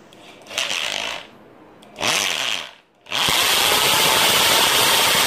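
A power drill bores into a natural wooden bird perch in three bursts: two short runs, then a long steady grind, loud and close, with no talk.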